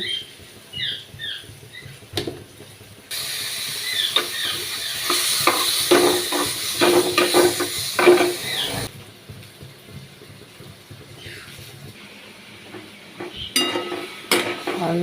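Chutney sizzles in a hot pan while a spoon stirs and scrapes through it, growing louder and busier midway, then settling back to a softer sizzle.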